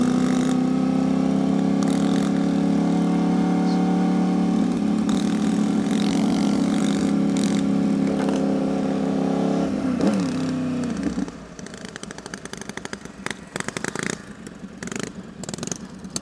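A small scooter engine idles loudly with a steady droning tone, then revs and changes pitch before dropping to rougher sputtering bursts.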